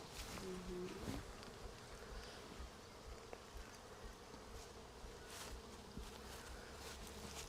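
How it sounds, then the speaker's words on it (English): Honey bees buzz steadily around an outside hive frame during an open-hive inspection, a dense close hum with a few brief louder passes near the start. "You can see quite a good population of bees too on this outside frame."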